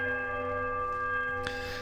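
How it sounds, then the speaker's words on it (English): A bell in the fantasy role-playing game Pillars of Eternity sounds a sustained, ringing tonal chime with steady overtones, fairly quiet and alone, with a brief brighter swell near the end. "The bell sounds a strange, wobbling peal that grows to a painful shrillness before it diminishes to a mournful chime."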